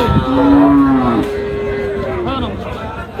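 Young bull calves at a rural livestock market low in a long, loud, close moo that holds steady and then trails off, with a second shorter call and faint crowd chatter behind.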